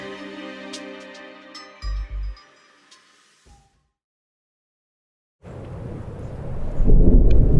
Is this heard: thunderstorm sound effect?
yes